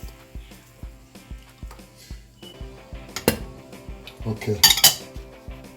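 A metal spoon stirs turkey stew in a pot, scraping and clinking against the sides in a steady rhythm that grows busier and louder toward the end, with a brief spoken word near the start.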